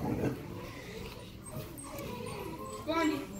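A dog whimpers and lets out short yips, brief high-pitched cries near the start and again near the end, with a person talking nearby throughout.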